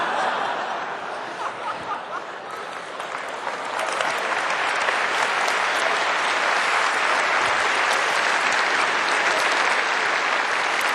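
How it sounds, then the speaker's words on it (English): Audience applause with some laughter fills a large kickoff event hall, a dense steady roar of clapping that swells louder partway through and holds, with no talk over it. "Oh, don't clap."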